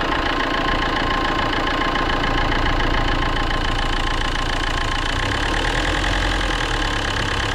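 A Fiat 1.9 JTD diesel engine with a leaking, sticking injector runs steadily and loudly up close, its low rumble and ticking clatter continuous, with no clear rise in revs.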